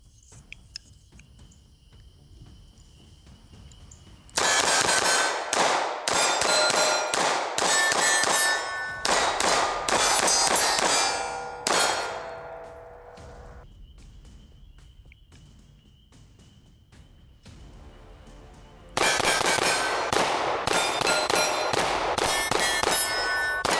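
A Kimber 2K11 Pro Comp pistol fires at night with a weapon light mounted: two loud, rapid strings of shots, the first longer and the second starting later, with quiet insect chirping between them.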